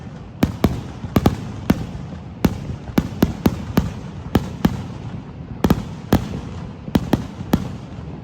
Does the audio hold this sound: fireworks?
yes